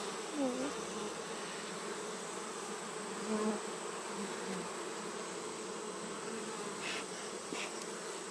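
Honeybees at an opened beehive drone in a close, constant buzz that swells and fades as individual bees pass near, with faint outdoor background and no talking.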